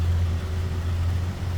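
A 1965 Chevrolet C10 Stepside pickup with an inline 230 six-cylinder engine and automatic transmission idling, a quiet, steady low rumble heard from behind the truck without any talking.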